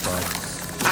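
A Bombarda blasting spell cracks open a chest in the video game Hogwarts Legacy, giving one short, sharp burst near the end over a steady tonal background.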